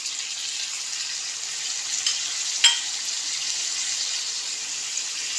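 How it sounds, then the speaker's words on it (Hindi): Onion, garlic, ginger and green chili fry in a pan with a steady soft sizzle throughout, a brief sharp crackle midway, no talking. "सारे मसाले शामिल करके हमने अच्छी तरह भून लेना है।"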